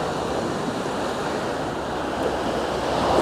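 Sea waves wash over the beach groynes at Felixstowe's Cobbolds Point as the tide goes out, a steady broadband rush of surf mixed with some wind, swelling a little louder near the end.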